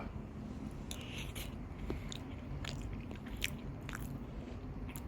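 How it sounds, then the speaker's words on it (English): Biting and chewing into a hot country fried steak TV dinner with gravy and mashed potatoes, giving a few soft crunches and wet mouth sounds close up with no talking. "Oh, she's still chewing it."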